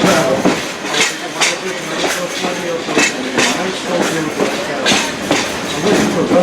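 A car of the Essex steam train rolls along the rails with steady, rhythmic clickety-clack and a dense rattling rumble heard close from inside.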